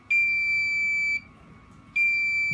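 Close, shrill electronic beeping comes from a 555 timer oscillator beeper: one sustained tone of about a second, a brief pause, then a second tone starting as the sound ends, with no other sounds.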